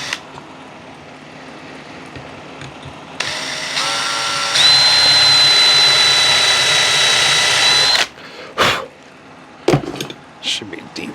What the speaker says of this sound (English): I think I will pre-drill these holes.